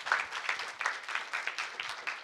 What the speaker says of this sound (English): Give them a fantastic round of applause.